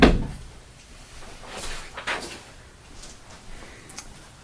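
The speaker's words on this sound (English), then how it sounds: "Closing closet door." A closet door shuts with a sharp thump right at the start, followed by faint wooden creaks and light knocks in a quiet room.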